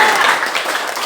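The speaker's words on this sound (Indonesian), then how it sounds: "Tepuk tangan untuk" A classroom group of students claps briefly after a group presentation in a school science lesson, a short loud burst of close, dense clapping.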